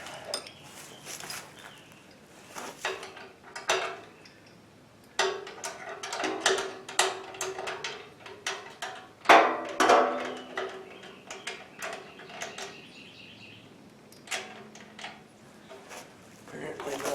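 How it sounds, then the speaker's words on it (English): A wrench works on the motor of a Harbor Freight concrete mixer during assembly, giving scattered metallic clicks, taps and clanks at irregular intervals while people talk throughout. "And now we're going to tighten up the motor."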